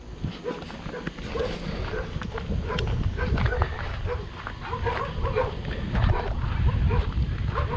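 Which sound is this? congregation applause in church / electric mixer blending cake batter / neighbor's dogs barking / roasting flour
neighbor's dogs barking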